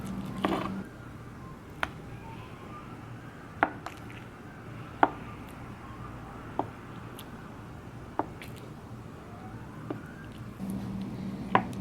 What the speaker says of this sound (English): Now I'm slicing the rest of the tofu into cubes